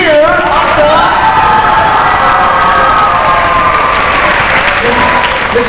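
A school audience of children applauds and cheers loudly in a gym after a fitness jump rope show, with dense clapping, shouts and whoops filling the whole stretch at close range.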